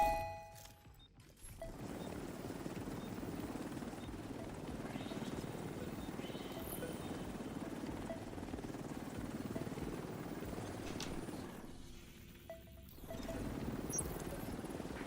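A helicopter in the video game Division 2 gives a continuous rotor rumble and whir that fills most of the clip, briefly dropping away near the start and again around twelve seconds.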